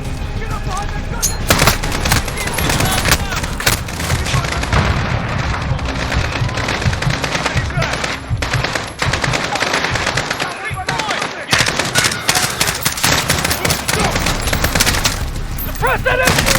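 Sustained machine-gun fire rattles continuously and loudly through the battle in Call of Duty: Modern Warfare (2019), with booms and shouted voices mixed in.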